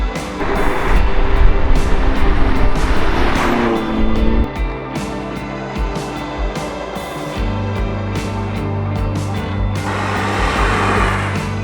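A BMW M2 CS with a carbon fibre bonnet from the GT4 race car pulls away for a drive, its engine a loud, steady low drone with shifting tones and rises in revs throughout.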